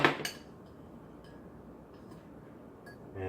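A metal fork clinks against a dish while cheese sticks are coated in egg wash and breadcrumbs, a couple of close, bright taps at the start and another near the end, with quiet room noise between.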